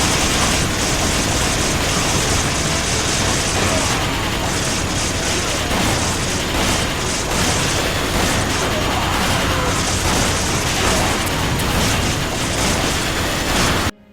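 The L.T.D weapon firing in Resident Evil 5, a loud, dense and continuous barrage of blasts and booming bursts filling the whole stretch with game effects layered on top.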